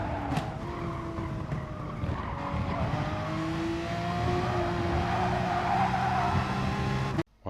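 Race car in a racing video game downshifting to second and trail braking into a corner at Catalunya, engine note dropping and droning under squealing, skidding tyres, loud and continuous until an abrupt stop at the end.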